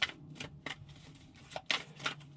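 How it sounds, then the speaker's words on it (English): Tarot cards are shuffled by hand in quick, crisp riffling bursts, several separate flurries close by with short pauses between them. "All right, one more shuffle."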